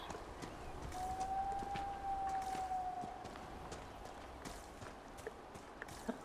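Horse hooves clop along in the video game Dragon Age: Inquisition, a faint, quick rhythmic patter under a brief sustained whistling tone and soft game ambience.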